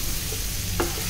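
Masala paste for a prawn rassa with raw cashew and raw banana sautés in a pan, a steady close sizzle with a brief scrape of stirring near the end, no voices.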